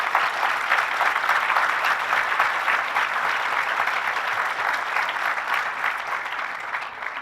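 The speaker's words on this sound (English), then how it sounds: "Let's thank them with a round of applause." Sustained audience applause in a hall after a staged trial presentation, loud and continuous, with dense clapping at an even level that tapers slightly toward the end.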